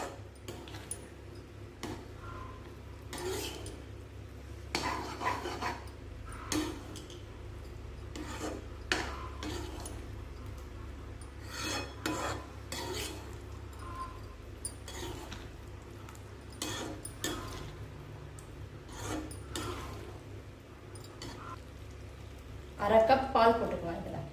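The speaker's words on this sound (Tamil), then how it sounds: "நல்லா கிண்டிகிட்டே இருங்க இல்லைன்னா அடி பிடிக்கும்" Bun halwa being stirred in a pan, giving a steady scraping and rubbing rasp with irregular strokes at moderate volume, brief louder clatters near the end.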